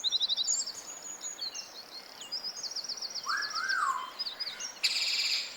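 Parrot calls ring out in bright, rapid chirping trills and whistles, repeated in bursts and one sliding, swooping call, fairly close over a steady background hiss, with no talking.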